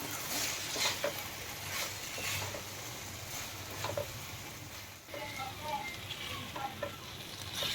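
Deep-fried paneer cubes tossed and stirred into a hot pan for dry paneer chilli, giving a steady close sizzle broken by repeated scraping and clacking stir strokes all the way through.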